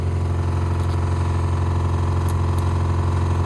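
Diesel engine of a tracked digger runs steadily at a constant idle, a loud, close, even rumble throughout with no voices.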